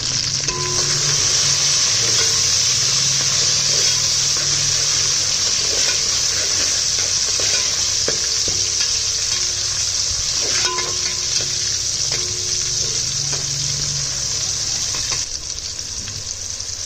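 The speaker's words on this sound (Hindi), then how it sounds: "अब मैं इसके अंदर टमाटर और हरी मिर्चें ऐड करूँगी और साथ ही इसके मसाले, गरम मसाला है, जीरा, लौंग, दालचीनी, तो सारे मैंने मिक्स कर दिए।" Onions frying in a pan with tomatoes, green chilies and whole spices like cumin, cloves and cinnamon, giving a loud continuous sizzle with occasional stirring scrapes and clinks throughout.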